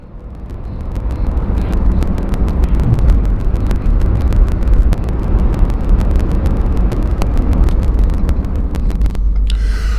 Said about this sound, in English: I'm going to drive down maybe about another 2 miles or so